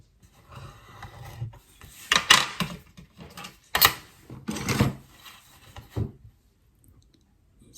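A tool scores fold lines into card for a 3D frame card. Close scraping strokes and rasping rubs come in several separate passes, some sharp and loud, with quiet gaps in between.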